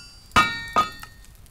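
A hammer strikes metal ingots in the video game TerrafirmaCraft, two sharp ringing clanks followed by a fainter third tap, with metallic overtones lingering briefly.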